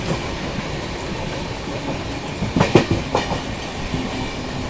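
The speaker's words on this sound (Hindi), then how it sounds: "लो भाई अभी ही पकड़ लिया अवध एक्सप्रेस को" Shiv Ganga Superfast Express rolling along the track while overtaking the Avadh Express, a steady rumble of rail noise with a few louder clacks and rattles bunched near the middle, heard from inside a 2AC coach.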